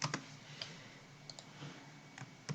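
A few sparse, soft keystrokes on a computer keyboard tap out answers during a simple color guessing game, with quiet gaps between the faint clicks.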